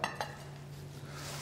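Rococo-pattern porcelain dinner plates from a tableware service clink together, a couple of sharp close chinks at the start followed by quiet handling and room noise.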